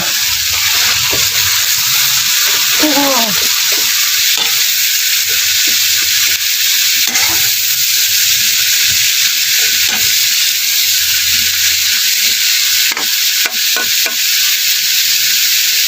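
Bitter gourd (ampalaya) sautéing in a pan, with a steady, close sizzle and frying hiss running throughout, broken by light stirring scrapes and clinks, with no talking.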